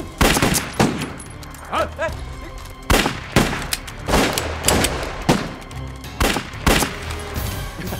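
Gunfire in a war drama battle scene: repeated loud, sharp shots and bursts crack out at irregular intervals, some in quick clusters, with scattered voices between them.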